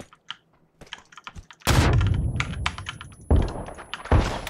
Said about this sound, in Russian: Давайте ему гранату закинем.